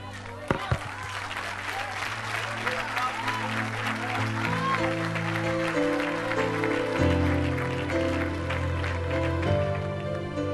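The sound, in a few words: congregation applauding in church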